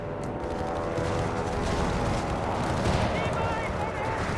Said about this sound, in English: Havoc, who has in fact unsurprisingly gone for advanced infantry and of course is going for artillery like any good American